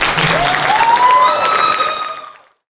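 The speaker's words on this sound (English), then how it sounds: "let's give these guys an applause" An audience applauds interview guests in a brief burst of clapping over bright tonal music, about two seconds long, then everything fades quickly to silence.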